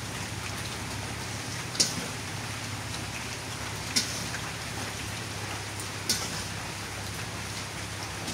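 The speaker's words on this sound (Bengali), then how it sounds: "দুপুরবেলা বাইরে বৃষ্টি পড়তেছে" Midday rain falls steadily outside, a soft, even hiss of drops close by, with three faint ticks spaced a couple of seconds apart and no voices.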